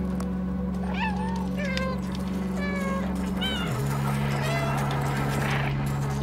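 Several short cat meows from the playable cat in the video game Stray, rising and falling over a steady low musical drone, clear and close.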